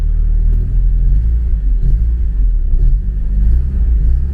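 A stock 1982 Porsche 944's single-cam 8-valve four-cylinder engine hums steadily while driving, with a low rumbling drone and small surges in revs, close and loud throughout.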